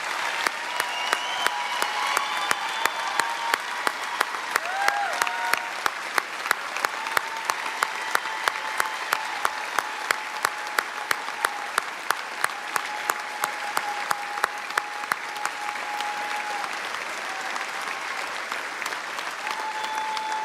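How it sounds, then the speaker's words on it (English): Sustained applause from the audience at the inauguration of a state General Assembly, with a large crowd clapping steadily for about twenty seconds and scattered sharp claps standing out above the wash, along with faint voices and whoops. "a well-deserved round of applause"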